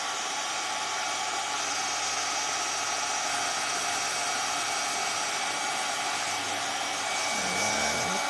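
A hair dryer blows steadily at close range with a constant airy whir, loud and unbroken throughout, briefly shifting in tone near the end.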